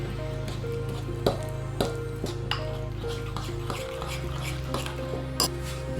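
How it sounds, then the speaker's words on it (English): Sauce ingredients, including oyster sauce, being stirred together in a bowl for a Korean spicy chicken stew, with steady clinks and scrapes of a utensil against the dish over a constant background hum. "Mix all of them."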